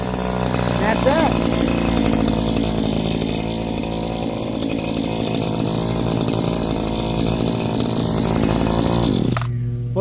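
A motorized power trimmer whines loudly and steadily at close range during lawn trimming, running continuously for about nine seconds before cutting off.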